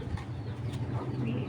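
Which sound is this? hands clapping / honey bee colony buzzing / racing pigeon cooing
racing pigeon cooing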